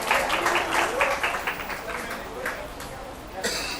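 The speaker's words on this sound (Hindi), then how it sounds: "जोरदार तालियां" Audience applauding at a coaching seminar, a dense, continuous patter of many hands that stays fairly loud, with a voice talking over it.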